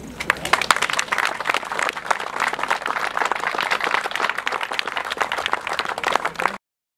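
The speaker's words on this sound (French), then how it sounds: "Nous pouvons l'applaudir." An audience applauds during the speeches at a village clover festival, a dense, steady wash of many hands clapping for several seconds before cutting off abruptly.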